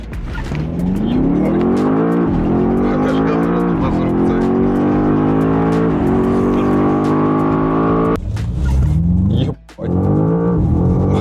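A BMW M5 G90 hybrid launches hard from a standstill, its engine note climbing through several gear changes in rising sweeps, loud and close from inside the car, with a brief lift near the end; people talk over it.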